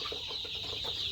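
Sonali chickens in a poultry shed give a string of soft, rapid clucks over a constant high background hiss, fairly close and continuous throughout.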